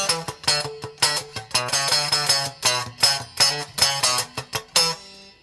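A short, choppy electric guitar phrase with crisp muted scratches and punchy plucked notes in a tight, syncopated funk rhythm, played close and loud with no talking.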